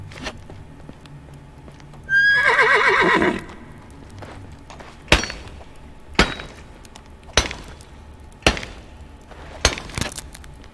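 A horse in the video game Medieval Dynasty lets out one loud, close, shaky whinny lasting about a second, followed by a series of sharp, evenly spaced chopping knocks.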